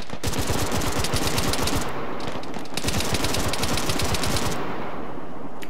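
Sustained automatic gunfire in Arma 3 during a push into a city, a dense, loud, continuous rattle of rapid shots with one brief pause midway.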